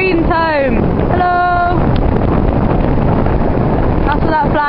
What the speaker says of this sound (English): it's got really windy all of a sudden